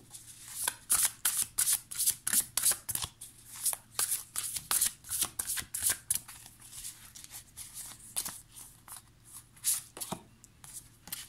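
A Beautiful Creature Tarot deck being shuffled up close, with a long run of quick riffling card flutters and soft slaps in uneven bursts, no voice over it.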